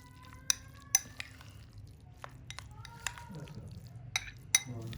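Chicken bun stuffing being mixed in a bowl in a home kitchen, with sharp clinks of a utensil against the bowl scattered over a soft, steady scraping and stirring, close and fairly quiet.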